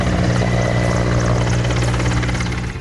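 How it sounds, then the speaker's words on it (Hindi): Indian Air Force helicopter flying overhead during a flower-shower flypast over hospitals, a loud continuous rotor and engine roar with a steady chopping pulse, close and dominant, no talking. "उत्तर से दक्षिण और पूर्व से पश्चिम हर तरफ वायुसेना के विमान अस्पतालों पर पुष्प वर्षा करने लगे।"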